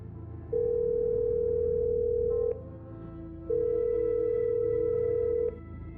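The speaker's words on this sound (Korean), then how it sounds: "신호 대기음이 그렇게 길게 느껴진 건 그때가 처음이었죠" A phone ringback tone sounds as two long steady beeps separated by a pause, clear and alone on a quiet line.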